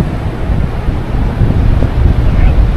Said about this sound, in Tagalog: Ito po yung beach front ng Sabang.